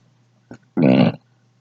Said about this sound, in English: GI tract doesn't work, pushes air up, causes me to burp.